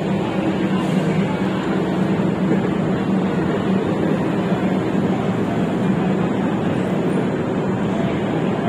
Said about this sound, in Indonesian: Kondisi lokomotifnya ngegas.